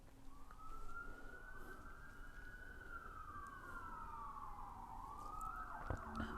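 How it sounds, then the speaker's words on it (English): A distant police siren wails in a short film's soundtrack, rising and falling slowly and faintly over a low ambient background hum, with a brief thump near the end. "You got that very ambient police sirens in the background."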